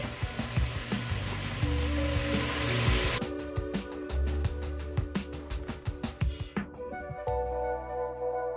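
Thick-cut Wright's bacon sizzles and crackles in a pan on the stove, a steady loud hiss packed with sharp pops that thins out toward the end into scattered spits.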